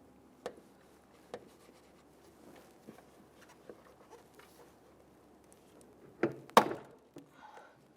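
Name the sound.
trim tool prying out plastic trim button on Ford Explorer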